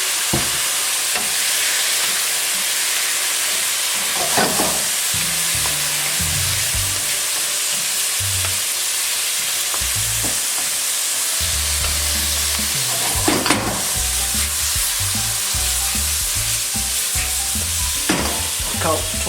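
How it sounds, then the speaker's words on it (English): Diced tofu and soy sauce fry in a wok for a black bean tofu dish, making a constant loud sizzle broken by repeated scraping and tossing stirs. "Next, I will put in tofu, which I've diced up, and some of the"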